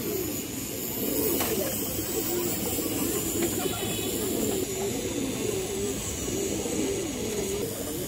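Two male pigeons coo in a low, repeated rolling rhythm close by, under a steady background hiss.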